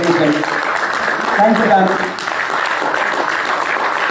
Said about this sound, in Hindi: ये इतनी कम तालियां नहीं बजनी चाहिए